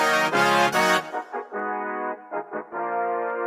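Bright, brassy synthesizer chords ring out, first a loud sustained blast and then a series of shorter stabs, each trailing off into reverb.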